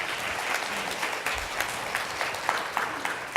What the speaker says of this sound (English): thank you for a big applause